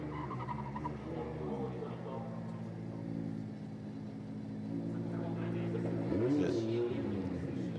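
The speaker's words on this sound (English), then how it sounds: "lined up is car number 21, King Gushi from Team Kazama in his Lexus IS 500" A Lexus IS 500 drift car idles and revs at the Sportsland Sugo qualifying start line, a steady engine drone that rises near the end while a commentator talks over it.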